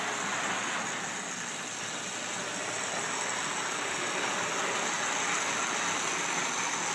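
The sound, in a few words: engine running in a yard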